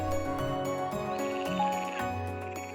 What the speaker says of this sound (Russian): Лягушка поет